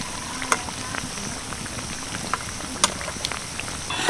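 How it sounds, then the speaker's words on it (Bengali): Goja, sweet Bengali pastries, deep-frying in oil over low heat, giving a soft, steady bubbling sizzle with a few sharper pops, heard alone without talk. "সবগুলো গোজা প্রায় দশ মিনিট মতো লো আঁচে আমি ভেজে নিয়েছি"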